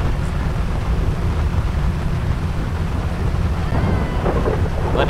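A thunderstorm in GTA 5 brings a loud low rumble of thunder rolling over a constant wash of heavy rain, with no one talking.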